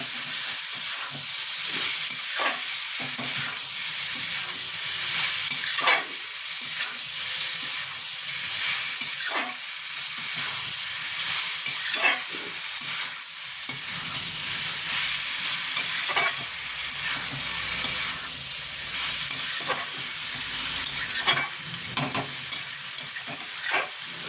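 Ridge gourd and shrimp simmer in a pan, giving a constant frying hiss broken by regular scraping strokes of a spatula stirring the mix, close and with no voices.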